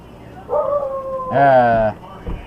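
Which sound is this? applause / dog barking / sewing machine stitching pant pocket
dog barking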